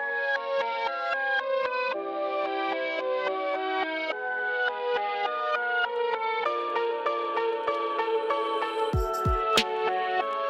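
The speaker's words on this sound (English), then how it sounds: "I took the tempo really high and automated it down to the original tempo." A song's tempo sweeps from very fast down to its original speed in re-pitch mode, so the tonal melody glides lower and slower, with two sharp swooshing effects near the end.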